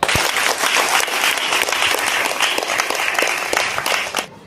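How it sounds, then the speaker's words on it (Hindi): An audience at a Hindi Christian sermon claps in sustained, dense applause for about four seconds before it stops abruptly. "ताली बजाइए।"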